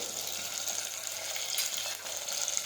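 Potatoes and spices fry in hot oil for a Gujarati potato dish, giving a steady close sizzle with light stirring.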